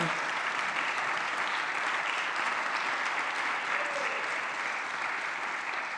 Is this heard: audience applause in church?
yes